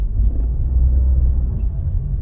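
A Toyota Raize 1.0 Turbo with a CVT accelerates on throttle, giving a loud, steady low engine rumble close by with no talk over it.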